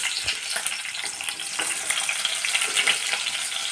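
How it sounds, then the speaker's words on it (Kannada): Homemade paneer frying lightly in oil in a pan, a steady close sizzle that fills the whole clip with no talking. "ಪನ್ನೀರ್ನ ಈಗ ಸ್ವಲ್ಪ ಲೈಟಾಗಿ ಫ್ರೈ ಮಾಡ್ಕೊತೀನಿ"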